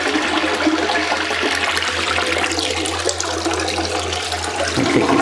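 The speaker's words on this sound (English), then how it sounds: "shut off the valve to the toilet and then flush it" A household toilet gets flushed after its supply valve is shut off, a steady loud rush of swirling water running about five seconds, changing near the end as the bowl drains.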